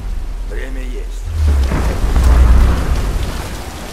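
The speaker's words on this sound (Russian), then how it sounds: "Давай, переждем бурю!" A rainstorm with rolling thunder in the game Tomb Raider: a brief voice, then a deep, loud rumble swells and holds over steady rain hiss.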